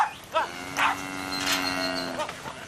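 Cattle on a Cape York property moo repeatedly and loudly nearby, several drawn-out lowing calls overlapping, with flies buzzing faintly in the background.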